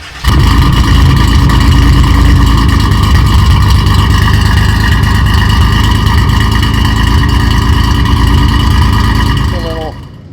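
A car with a MagnaFlow exhaust and no resonators idles loud and close, a steady deep rumble that holds evenly before cutting off near the end.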